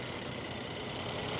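A Mercedes-AMG GLC 43 with a twin-turbo V6 idles smoothly with the hood open, a steady even hum throughout, no voices.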